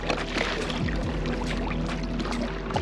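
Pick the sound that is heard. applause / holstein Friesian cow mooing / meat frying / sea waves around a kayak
sea waves around a kayak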